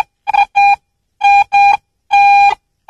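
An AT Pro metal detector gives repeated buzzy electronic signal tones while sweeping a gravel roadside pull-off: three pairs of loud, steady beeps separated by short silences, with no talking.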